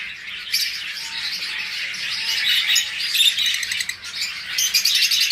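Pet budgerigars, forpus parrotlets and lovebirds chirp and tweet continuously, with overlapping bright calls and occasional squawks that sound close and fairly loud.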